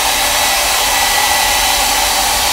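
A handheld hair dryer blows steadily to dry paint on a mixed media art journal page, a loud, even whooshing hum with no breaks, held at some distance from the page and with nobody talking over it.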